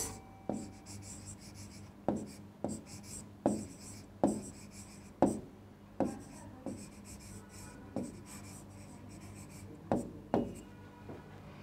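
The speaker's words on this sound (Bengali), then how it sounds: "তাহলে আমরা এখন এগুলো লিখে ফেলব" Writing on a board: a dozen or so quiet, rhythmic strokes and taps, each a short scratchy stroke, with brief pauses between words.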